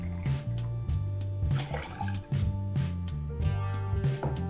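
Pineapple juice, about 50 ml, is poured for an Acapulco cocktail. A close, gurgling liquid pour runs in short repeated bursts, with a low steady hum underneath.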